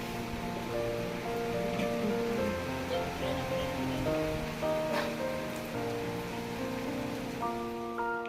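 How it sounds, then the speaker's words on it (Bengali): Heavy rain falls in a steady, dense wash of noise that runs unbroken throughout, with faint background tones and no one speaking. "প্রচুর বৃষ্টি হচ্ছে"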